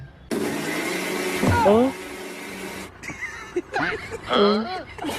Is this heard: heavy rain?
no